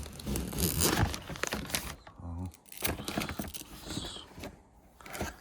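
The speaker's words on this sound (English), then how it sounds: "Let's unzip that." Zipper pulled open on a bag close up, quick rasping tears and crinkly handling noises mixed with someone talking.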